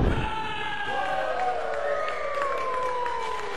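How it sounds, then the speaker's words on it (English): A wrestling crowd in Peabody at a Liberty States Wrestling match cheering and shouting loudly throughout, a dense roar with rising whoops, while a commentator talks over it. "Getting the crowd here in Peabody amped up."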